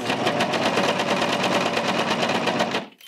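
Serger stitching two curved fabric pieces together, a steady, fast, loud mechanical whir with rapid rhythmic clatter running continuously, then stopping abruptly near the end.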